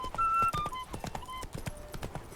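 Horse hooves clip-clop in a quick galloping rhythm in The Witcher 3, loud and close over a short stretch, with a brief neigh and faint game sounds around them.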